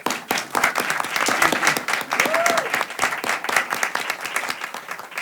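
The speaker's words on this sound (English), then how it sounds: "Please give her a round of applause." An audience at a Food is Medicine policy event applauds a congresswoman being introduced, steady close clapping from many hands running throughout, with a brief voice or whistle partway through.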